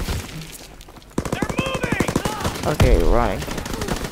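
Rapid automatic gunfire in the World War II shooter Call of Duty WWII: quick bursts of evenly spaced shots, close and loud, with a person talking over them.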